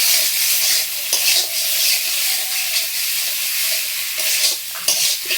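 Boiled eggs fry in a pan in a village home kitchen, giving a loud, continuous sizzle and hiss with sharper bursts of spattering as they are stirred.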